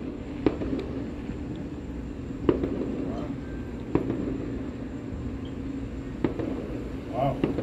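Fourth of July fireworks going off in the distance, with a handful of sharp, spaced-out pops and bangs over a steady outdoor hum.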